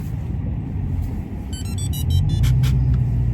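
A car's remote start shuts off as the brake is pressed, giving a quick series of bright electronic chirps over the low, steady rumble of the idling car.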